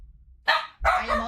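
A dog gives two close, loud barks, the second fuller and longer, with a quiet room behind them.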